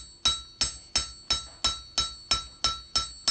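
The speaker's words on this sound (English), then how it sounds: "for texturing, I'm just going to let the weight of the hammer" A hammer strikes a copper cuff to texture it, with evenly spaced metallic blows about three per second. Each ringing strike is loud and close and fades quickly, and no one talks.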